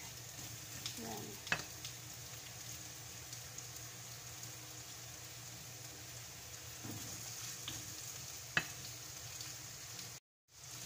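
Eggplant and onion fry steadily in a pan with a continuous bright sizzle, broken by a few faint stirring clicks and scrapes.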